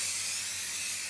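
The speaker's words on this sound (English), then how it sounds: "Add very little oil spray on the top so that they don't stick." A brief continuous hiss of oil spray sprayed onto blueberry muffin batter in a tray, close and steady for about a second.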